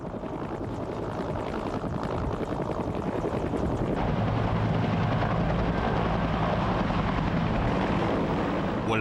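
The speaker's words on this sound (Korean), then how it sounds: "본격적인 공격용 헬리콥터로 개발돼 탄생한 것이 바로 이 코브라 헬기다" AH-1 Cobra attack helicopter running close by, a loud, steady rotor and turbine roar with rapid blade chop, which thickens and deepens partway through as the engine note shifts.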